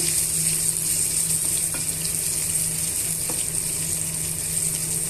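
Masala with a tablespoon of turmeric frying in a pan for brinjal tomato curry, a loud continuous close sizzle with a couple of faint stirring clicks and no voices.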